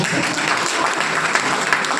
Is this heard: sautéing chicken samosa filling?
no